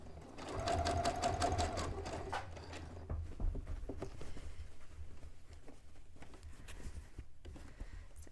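Sewing machine running steadily along a curved seam for a cut-and-sewn cone-shaped cape or dress, a close, continuous mechanical whir with fast rhythmic stitching patter that eases slightly after the first few seconds.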